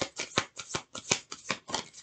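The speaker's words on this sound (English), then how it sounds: "I love when the cards come out in the middle." Tarot cards being shuffled by hand in quick rhythmic riffles, about eight crisp bursts in two seconds, close and clear, with some cards slipping out of the deck.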